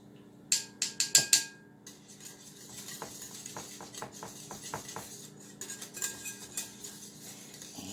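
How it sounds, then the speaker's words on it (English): A spoon mixes yellow mustard into macaroni salad dressing in a bowl: a quick cluster of bright clinks, then softer repeated scraping and tapping strokes against the bowl, close and fairly quiet. "I'm just mixing that in good with everything else"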